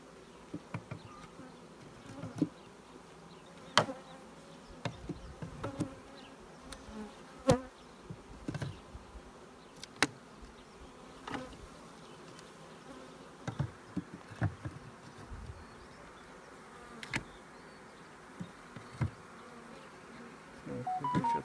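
Bees buzzing around an opened horizontal beehive during a May inspection, a continuous close droning hum with individual bees passing near, steady throughout with no talk.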